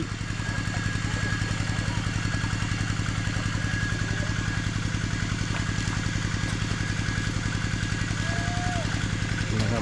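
A water pump engine at a fish-lifting net runs at a fast, steady idle with a dense, even chugging throb that stays loud and close throughout, with no spoken words.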